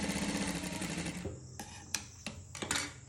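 Sewing machine stitching a saree blouse runs in a steady buzzing whir for just over a second, then gives way to a few sharp, separate clicks and taps close by.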